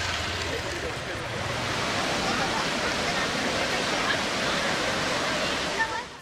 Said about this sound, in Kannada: ಹಾಲ್ನೊರೆಯಂತೆ ಧುಮ್ಮಿಕ್ಕುವ ನೀರು ನೋಡೋದಕ್ಕೆ ಪ್ರವಾಸಿಗರು ಮುಗಿಬಿದ್ದಿದ್ದಾರೆ